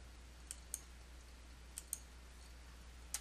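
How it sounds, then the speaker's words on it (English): A computer keyboard in a quiet room, with a handful of sharp, faint key clicks spaced irregularly, a few coming in quick pairs, over a low steady hum. "press Ctrl plus V on your keyboard to paste the data into the column"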